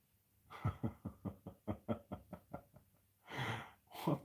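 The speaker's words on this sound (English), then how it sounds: "There's somebody at the door." Rapid knocking on a door, about a dozen evenly spaced raps in a row, followed by heavier, muffled thumps and some breathing nearby.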